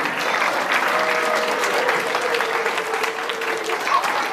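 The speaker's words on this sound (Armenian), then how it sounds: "ծափահարենք նրանց է։" Sustained applause from an audience at a youth orchestra concert of Artsakh national folk instruments held in Sevkar village, a loud, even crackle of many hands clapping continuously throughout.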